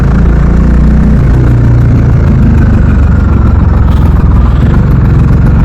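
A Bajaj Dominar 400 motorcycle idling at a toll gate, a loud, steady low engine rumble with constant vibration and no pauses, close to the microphone.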